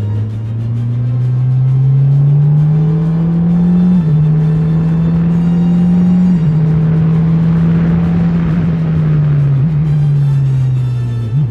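A Formula Renault single-seater race car screams past on track during an overtake, its engine note loud and close, rising and falling through gear changes with a steady high-pitched drone.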